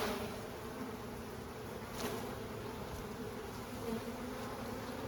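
Dense buzzing of a feral honeybee swarm being shaken off a comb frame into a hive, a steady close insect drone that swells briefly as the bees fall, with no talking.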